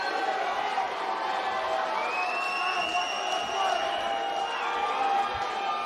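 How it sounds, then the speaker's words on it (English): A crowd at a Samourai MMA fight cheers and shouts for fighter Michael Dufort, a steady roar with whistles from afar, under a commentator's ongoing talk. "Crowd trying to rally behind Dufort, give him the energy in this last minute."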